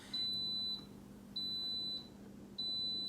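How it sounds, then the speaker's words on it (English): Instant Pot pressure cooker signals it has finished cooking chicken with three long, high electronic beeps spaced about a second apart, fairly faint over a quiet kitchen hum. "That's a very long beep."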